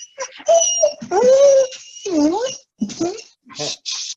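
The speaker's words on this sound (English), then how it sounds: "I think the dogs want to go out." Dogs whimper and yip in short, rising and falling whines, close by and fairly loud, with several separate bursts and pauses between them.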